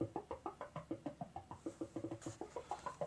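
A Buchla 292 low pass gate pinged by pulses gives a fast, even run of short, plucky, woody tones with shifting pitch, each note decaying quickly, played alone.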